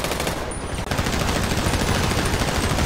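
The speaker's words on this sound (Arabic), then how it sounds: "صوت رمي صوت رمي" Rapid automatic gunfire in GTA 5, a dense continuous barrage of shots with a brief break before the firing resumes.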